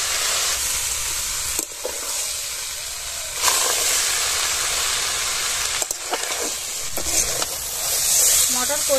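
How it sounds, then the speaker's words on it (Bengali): Boiled potatoes and peas being stirred with spices in a hot pan for ghugni: continuous sizzling and hissing broken by several scraping strokes of the spoon, fairly loud and close, with no clear speech. "মশলার সঙ্গে আলু মটর ভালো করে মিশিয়ে নেব"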